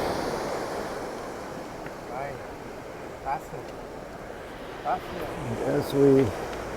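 Sea waves washing against the shore with steady wind buffeting the microphone, a continuous close roar of surf, and brief voices breaking through near the end.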